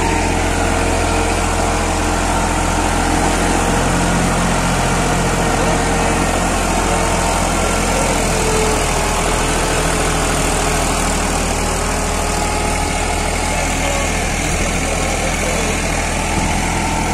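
A turbocharged New Holland 3600-2 tractor with a 50 HP engine running close to the microphone, a loud, steady, unbroken engine drone that holds its level throughout with no pauses.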